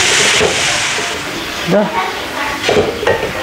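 Egg and bilis fish frying in a pan for fried rice, a steady broad sizzle and hiss with some stirring clatter, close and fairly loud, with a brief spoken word over it.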